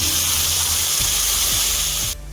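About one and a half glasses of water pour into a pan of frying vermicelli, giving a loud, rushing hiss with a few soft knocks that cuts off abruptly at the end.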